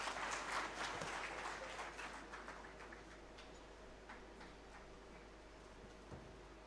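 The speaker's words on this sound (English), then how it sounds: "another round of applause for her, please" A crowd at a career fair applauds a speaker, a faint, distant wash of clapping that fades gradually over several seconds, with no talk over it.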